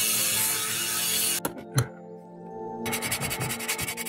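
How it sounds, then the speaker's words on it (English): Silver wire rubbed with fine 320-grit sandpaper during pendant silversmithing, a close, steady scratchy rasp broken by a couple of brief knocks and a pause, then resuming in short rhythmic strokes. "This is 320 sandpaper, pretty fine, but it's coarse enough to take off file marks"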